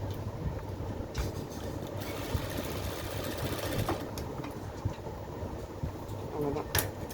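A sewing machine runs continuously, stitching the hem of a torn saree in a tailoring class, with a close, rapid mechanical whir, brief pauses and small clicks along the way.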